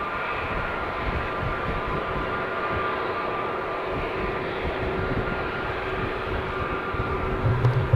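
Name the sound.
Airbus A320neo airliner heading to Valencia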